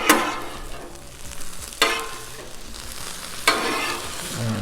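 Vegetables for a taco skillet sizzle steadily on a Blackstone griddle, a constant frying hiss punctuated by three sharp bursts as the food is stirred or turned.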